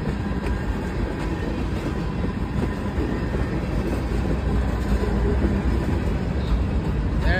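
A CSX westbound local freight train rolls past steadily and loudly, its continuous rumble and wheel noise filling the whole stretch with no pauses.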